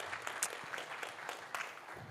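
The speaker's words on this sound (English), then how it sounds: "A big applause." Faint applause from an audience at a power electronics conference, scattered distinct claps in a soft steady patter, distant and quiet with no talk.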